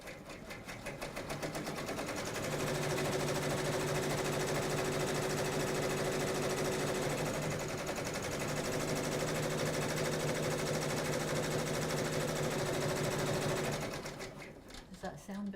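A Brother PR1000e embroidery machine runs after a needle change, a steady fast mechanical whir and rhythmic needle clatter that builds up, holds for about twelve seconds, then winds down, with people talking quietly nearby.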